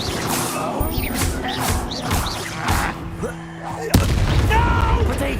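An Incendio fire spell in the Hogwarts Legacy video game lands with crashing, booming impacts amid combat effects and game voices, ending in a sharp heavy burst.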